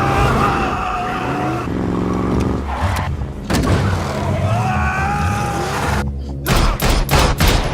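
A movie scene with gunfire and a car: a loud, dense mix of engine roar and skidding with bursts of shots, ending in a run of sharp, close reports near the end.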